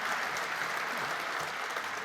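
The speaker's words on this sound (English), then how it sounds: "Can we have a round of applause?" Audience applause at an evening concert after an orchestra's opening set, a dense, steady wash of clapping filling the whole stretch at even loudness with no voices over it.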